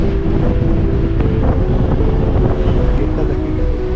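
A car drives the road from Srinagar to Gulmarg in Kashmir: a loud, steady low rumble of engine and tyres with constant wind buffeting the microphone, and a voice partly buried beneath.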